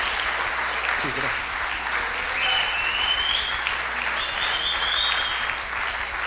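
A church congregation in Venezuela keeps up sustained applause through the whole stretch, a dense rattle of many hands with faint voices and a shout or two over it.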